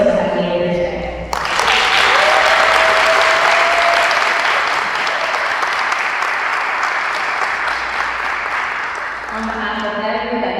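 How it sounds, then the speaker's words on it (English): Loud, sustained audience applause fills a room at a city pitch competition, swelling after a brief opening of voices and holding steady for several seconds before easing as talk resumes underneath. "let's give a very, very big applause to those 9 folks that have made it here today"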